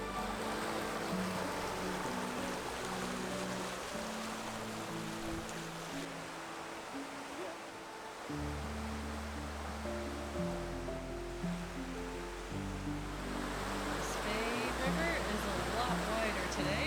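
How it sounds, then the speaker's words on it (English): The River Spey in Scotland rushes past in autumn, a broad steady roar of flowing water that continues throughout while people talk over it. "This is now the Spey River."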